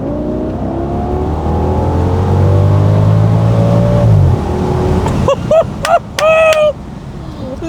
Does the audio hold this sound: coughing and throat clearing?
no